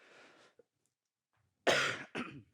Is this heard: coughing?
yes